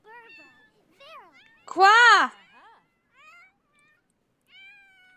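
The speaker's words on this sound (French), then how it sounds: "J'ai tous les chats qui gueulent en même temps." Several cats in The Sims 4 meow at once, one loud drawn-out wail standing out among shorter, softer mews, with a brief spoken word from a player between them.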